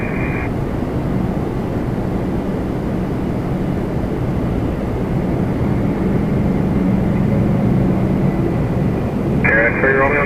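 A Boeing 777-300ER airliner at Toronto Pearson airport gives a steady, broad jet engine roar that holds level throughout, with short bursts of radio chatter at the start and end.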